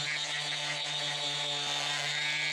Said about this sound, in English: I've got this little detail sander by Skill.